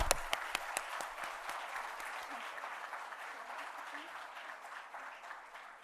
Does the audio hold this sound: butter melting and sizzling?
no